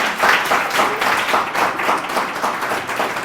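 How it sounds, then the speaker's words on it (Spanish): A crowd applauds Juan de Dios at a talk, with many hands clapping in a continuous, even wave that swells slightly in places, and no voices. "Bueno, pues yo creo que podemos dar un aplauso a Juan de Dios."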